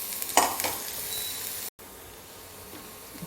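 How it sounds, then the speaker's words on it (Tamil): Onions sautéing in a pan for veg momo stuffing, a soft sizzle with a few scraping stirs near the start, a brief dropout midway, then a quieter steady fry. "வெங்காயம் நல்லா வதங்கட்டும்."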